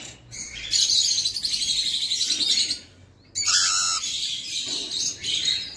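Small birds in a home aviary chirp and tweet rapidly at close range. Their calls come in two dense bursts, broken by a brief pause.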